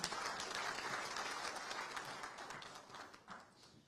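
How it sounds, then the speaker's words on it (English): Faint applause from an audience at a FICCI national executive committee meeting in Ahmedabad: a soft, continuous patter of clapping that tapers off toward the end. "A round of applause in my name."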